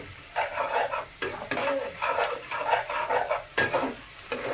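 Spice paste for a Bengali jackfruit curry fries in oil as it is stirred, with repeated scraping strokes of a spoon against the pan over a steady close sizzle, no talking.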